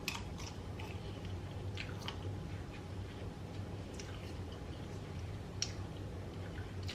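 Someone chews Jamaican peppered shrimp close to the microphone, with soft, irregular wet crunches and bites over a steady low background hum, the chewing quiet and continuous rather than sharp.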